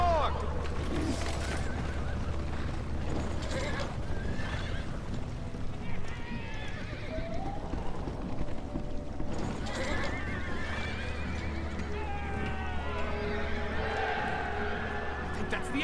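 Horses of the Rohan riders in a Lord of the Rings battle game, with neighing and hoofbeats across a steady, busy battlefield bed and shouted voices over the top.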